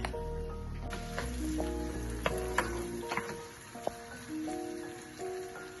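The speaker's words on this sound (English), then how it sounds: "Pretty much we are frying it." Egusi soup base with onion frying in a pot, a steady close sizzle running throughout, with sharp utensil clicks and scrapes against the pot and faint musical tones in the background.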